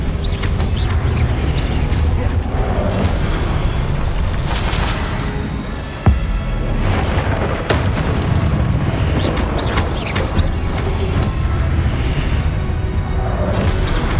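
Repeated Expelliarmus spell blasts in Hogwarts Legacy land as booming, crashing impacts over a dense, loud game soundscape, with one sharp cracking hit standing out midway through.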